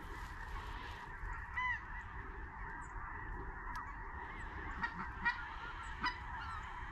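Geese flying high overhead during a goose hunt at Eagle Lake honk repeatedly, a few calls standing out over a quiet, steady background; no talking.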